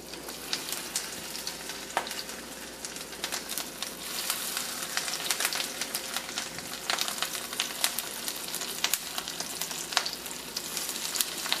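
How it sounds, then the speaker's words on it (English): Steady crackling sizzle of tuna cakes frying in a hot pan, with scattered sharp pops and occasional scraping, close and continuous without talk. "We're going to put another set in the frying pan."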